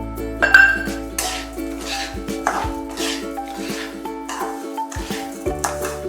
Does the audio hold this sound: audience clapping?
no